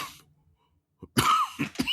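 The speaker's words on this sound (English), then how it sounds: "I apologize for the cough" A single throaty cough comes after a short silence, followed by a couple of quick throat-clearing bursts, close and fairly loud.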